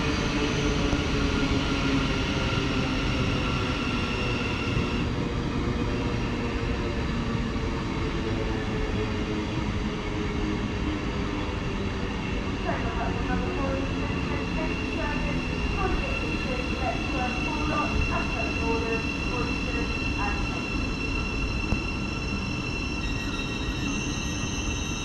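Passenger train from Gatwick Airport to Cambridge running through Stevenage station, a steady loud rumble of wheels and traction with faint squeals throughout, close by and continuous.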